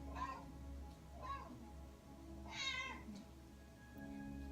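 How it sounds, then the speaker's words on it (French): A cat meows several times in a row, each call clear and fairly close, with a steady low hum underneath throughout. "Tu miaules très très mal."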